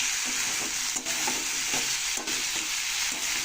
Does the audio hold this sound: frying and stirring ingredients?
yes